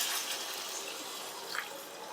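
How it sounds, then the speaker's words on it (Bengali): Hot water poured from above into a pan of sautéed potatoes while cooking Bengali niramish aloo dum, a soft, steady splashing hiss that continues evenly throughout with no voices. "আমি এবার একটু গরম জল দিয়ে দিচ্ছি যাতে আলুগুলো সিদ্ধ হয়ে যায়"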